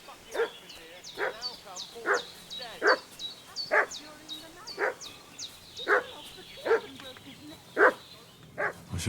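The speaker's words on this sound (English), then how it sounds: "What's that dog making such a fuss about?" A dog in a medieval video game barks repeatedly in evenly spaced sharp yelps, roughly one per second. The barking is moderately near and stays clear throughout.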